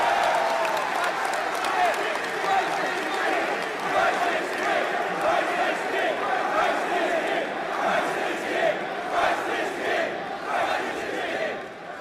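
A large crowd chants and cheers in unison, a loud rhythmic roar of many voices with scattered clapping, rising and falling in waves and sustained across the whole stretch.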